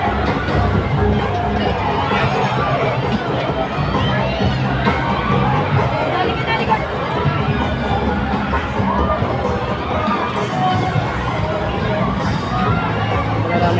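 Noisy crowd packed around a wave pool, with constant loud shouting, children's cheers and dense babble throughout, music faintly underneath.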